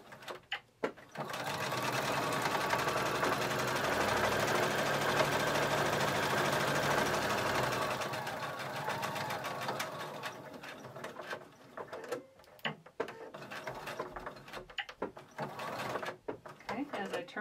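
A sewing machine back-stitches over elastic on a reusable face mask, a loud steady mechanical hum for several seconds, then stopping into quieter clicks and handling noises of pivoting the fabric.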